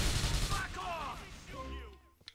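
Loud gunfire bursts open a firefight in the video game GTA IV: The Lost and Damned, then someone speaks over fading shots and a final sharp crack.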